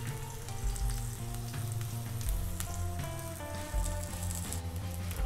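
Aubergines frying in a little oil in a pan, a steady close crackling sizzle throughout with a low hum underneath.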